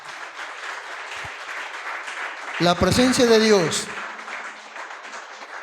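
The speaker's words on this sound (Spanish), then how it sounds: "Damos un fuerte aplauso al Señor," A church congregation claps throughout a service as a voice speaks over the applause, which swells briefly near the middle.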